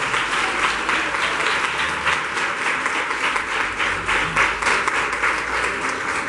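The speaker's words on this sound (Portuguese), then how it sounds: "aplauda o Senhor, porque ele vai mandar coisas grandes" Church congregation applauding during a Wednesday worship service, continuous dense clapping from a large crowd filling the room.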